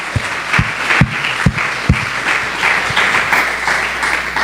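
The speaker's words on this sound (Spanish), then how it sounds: "Démosle un aplauso fuerte a la palabra del Señor." A congregation at a church service breaks into applause, opening with several sharp, evenly spaced claps before settling into a steady, full wash of clapping that continues to the end.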